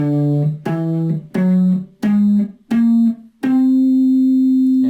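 Six sustained single notes on an electric guitar, each plucked separately and stepping upward a whole tone at a time, the last note ringing out longer.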